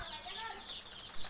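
Desi chicken chicks cheep and cluck in a faint, brief burst of soft high chirps, heard up close and quiet.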